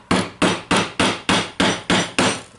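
Eight sharp metallic hammer blows on a socket drive a ball bearing onto an angle grinder shaft at a steady, even pace, each ringing briefly before the next strike, close and loud.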